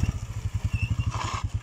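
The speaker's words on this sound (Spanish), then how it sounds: "Entonces, Irene, ya prendió la moto." A motorcycle engine, just started, runs at a fast steady idle close by, its rapid even pulses thudding for under two seconds with no talk.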